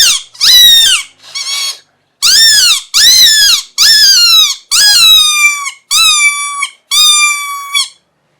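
Mouth-blown fox call lets out a series of loud, high squeaking squeals, about nine separate bursts with short gaps, each swooping and wavering in pitch, very close and with no voices.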